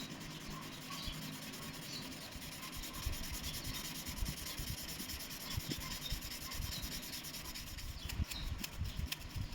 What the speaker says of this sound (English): Now I will continue to sand the whole body and especially concentrating on the panel lines